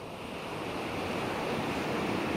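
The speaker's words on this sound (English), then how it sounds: "the sea lapped against the church wall at high tide" Sea waves lap and wash steadily against a stone church wall at high tide at Aberdaron on the North Wales coast, a continuous broad rushing surf with wind noise and no voices.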